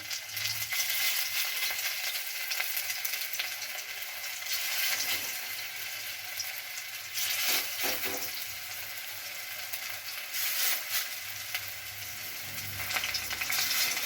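Drumstick flower and lentil fritters fry in hot oil with a steady, bright hissing sizzle, swelling briefly in bursts as batter drops in, with a few faint clinks in between.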